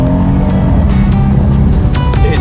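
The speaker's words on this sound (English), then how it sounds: "one thing they got right on this car for sure with this engine is the sound of the exhaust" Steady, loud low-pitched exhaust rumble from a 2020 Mercedes-AMG C63 running throughout, dense and continuous with a few brief higher whines layered on top.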